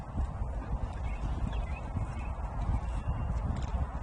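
Horse hooves clip-clop outdoors in a steady, uneven rhythm, close and continuous throughout, with no voices.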